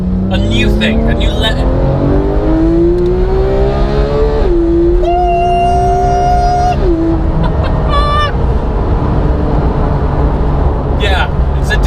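Sports car engine, a Porsche 991 GT3 or an Audi R8 V10, revving up through rising pitch sweeps and falling back, loud and close, with people talking over it throughout.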